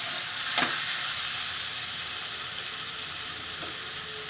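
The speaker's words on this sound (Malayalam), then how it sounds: "തേങ്ങയും കൂടിയിട്ട് നന്നായിട്ടൊന്ന് മിക്സ് ചെയ്യും" Coconut being stirred into a brinjal curry in a pan, a continuous soft sizzle and hiss with a couple of brief scraping strokes and no voices.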